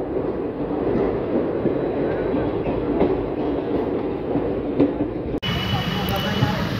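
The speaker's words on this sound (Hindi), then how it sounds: "प्लेटफॉर्म नंबर 2 से दोस्तों ये ट्रेन जाती है।" A Tanakpur–Mathura Mela Special Express runs on the rails between Bareilly and Pilibhit, heard as a loud, steady rumble with faint rhythmic clicks of the wheels, and the tone shifts abruptly near the end.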